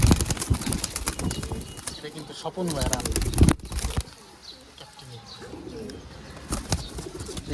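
Army blood-line pigeons cooing and flapping their wings nearby, with bursts of wing beats and soft coos while someone talks over them.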